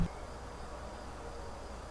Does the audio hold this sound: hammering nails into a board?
no